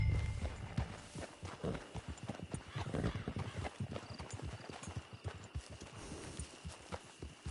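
Hooves clip-clop at a steady walking pace in a Red Dead Redemption 2 online camp, close and fairly loud, with game dialogue and a brief horse snort in the background.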